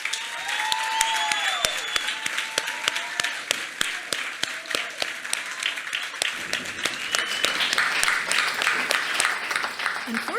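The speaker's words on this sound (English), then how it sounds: "I think we should take another moment to applaud this victory against all odds." An event audience breaks into applause, a steady wash of clapping from a sizeable crowd that builds slightly toward the end, with birdsong-like tones and faint voices mixed in near the start.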